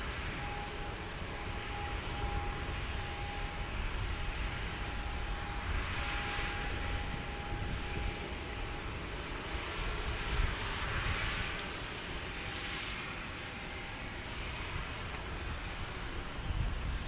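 A FedEx airplane roars steadily at San Diego airport, a broad continuous engine rumble with a faint whine, heard from outdoors amid wind noise.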